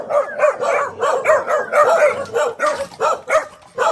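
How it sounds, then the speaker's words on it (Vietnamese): Several dogs at a rural house bark in rapid, overlapping bursts, loud and close, keeping up a steady barrage with no talk over them. "Nhà nuôi lắm chó đấy."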